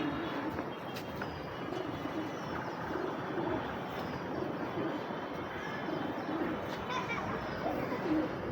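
Racing pigeons coo softly in a loft while a steady broadband drone, like a passing aircraft, runs underneath throughout.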